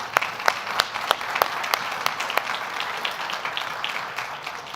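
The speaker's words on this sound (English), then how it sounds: "Please give them all a round of applause." An audience applauds steadily, with scattered sharp claps standing out from the continuous clapping of a crowd.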